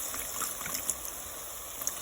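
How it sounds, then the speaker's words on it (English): A splash of chicken broth poured into sautéed vegetables for Mexican-style chicken soup, making a soft, steady trickling wash that stays low and even throughout. "The recipe said saute the veggies, add a splash of chicken broth."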